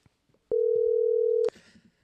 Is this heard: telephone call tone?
yes